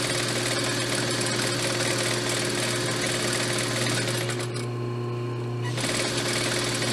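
A sewing machine runs steadily and continuously while stitching an elastic waist skirt, with a constant motor hum and rapid needle rhythm, close and loud, with a brief slowdown near the end.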